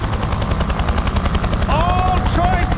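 Helicopter in the video game Far Cry 4, with rapid rotor chopping throughout, loud and close, joined by bursts of gunfire and a rising whine near the end.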